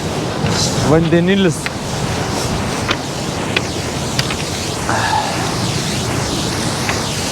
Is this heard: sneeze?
no